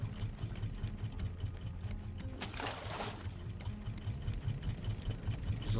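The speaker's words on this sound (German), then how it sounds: "Ich feiere das gerade wirklich. Dass die Motoren funktionieren." Motors on a raft in the survival game Raft chug with a steady mechanical rhythm, continuous and moderately loud, with a brief splashy swell of water partway through.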